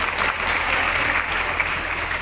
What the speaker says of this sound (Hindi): तो मैं चाहूंगा कि केवल अपने आतिथ्य सत्कार के लिए जोरदार तालियां हो जाए